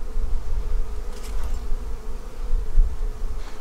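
A dense, steady buzz of honey bees swarms close around a queenless hive in a bee yard, low and constant with no voices.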